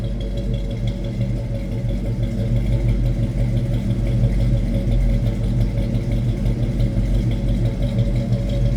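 A 1970 Ford Mustang Mach 1 Fastback idles steadily, its engine giving a deep, even rumble that stays loud and close throughout with no voices.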